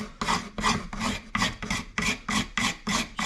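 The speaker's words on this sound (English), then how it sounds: "I could come in here and just kind of scrape this clean a little" A knife edge scrapes across walnut wood in about eight rhythmic strokes, each a dry raspy rub, close and clear with short pauses between passes.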